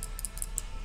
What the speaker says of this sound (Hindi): और आप सुन सकते हैं क्लिकिंग नॉइज आ रही है इसमें से।